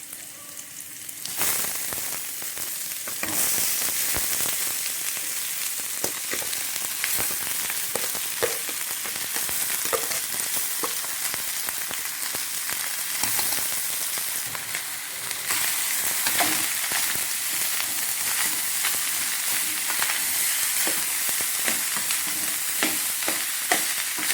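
Rice is stir-fried in a pan for village-style egg fried rice, or nasi goreng kampung. A continuous loud sizzle runs throughout, broken by scraping stirs and clatters, and grows louder partway through.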